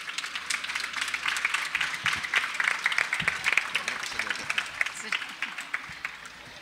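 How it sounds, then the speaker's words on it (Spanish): Crowd applause at the town fair proclamation in Torreperogil, a dense, steady roar of many hands clapping throughout, with some voices mixed in and the clapping thinning slightly toward the end. "Magdalena, un aplauso."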